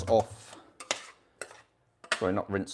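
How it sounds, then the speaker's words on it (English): Cooked rice is tipped into a sieve in a home kitchen for a salmon and asparagus lunch, giving a few clattering metal and pot knocks with wet rustling in between and some short bursts of nearby sound. "sieve off my rice because this is ready"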